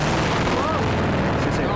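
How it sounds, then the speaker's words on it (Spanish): A guitar amplifier's spring reverb unit is struck, giving a loud, dense explosion-like crash that fills the whole short stretch with a boomy, rumbling wash. "ahí si lo golpeas, pero es que queda como un efecto medio explosión"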